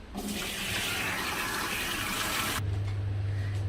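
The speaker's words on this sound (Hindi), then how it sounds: "बस इसका पानी निकाल लेते हैं।" Hot water from boiled lasagna sheets pours out in a loud, continuous gushing stream that stops abruptly, leaving a low steady hum behind.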